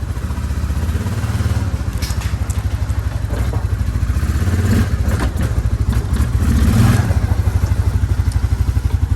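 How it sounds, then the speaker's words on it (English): A Suzuki Quad Runner 500 ATV engine idles in a garage with a steady, rapid mechanical chugging and clatter, running continuously throughout without any talk. "All right, let's test out the motor."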